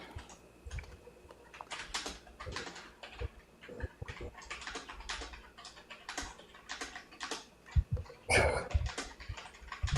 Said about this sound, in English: typing on the wrong keyboard